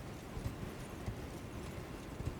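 Horse hooves clip-clop at a steady walking rhythm in the video game Elden Ring, soft and fairly distant, with no voices over them.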